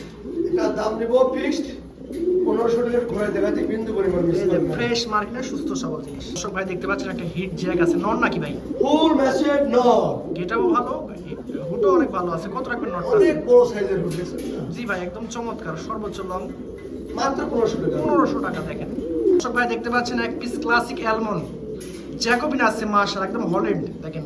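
Many pigeons coo continuously at a pigeon farm, their soft throaty calls layered and close, while people talk over them throughout.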